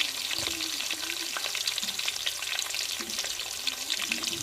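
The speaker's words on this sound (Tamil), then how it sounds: "வெட்டி வச்ச வெங்காயத்தையும் சேர்த்துக்கிறோம். நாலு பச்சை மிளகா சேர்த்துக்கிறோம்." Chopped onions and green chillies sizzle in a hot pan while cooking a dried-fish curry. The frying crackles steadily throughout, with scraping stir sounds mixed in and no talking.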